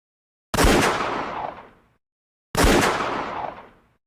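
Two loud gunshots from a firearm, about two seconds apart, each a sharp blast with a rolling tail that fades over roughly a second and a half, heard alone with no voices.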